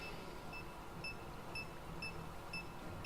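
In the Hitman video game, a faint electronic beep repeats steadily about twice a second over a low background hum, with no talking.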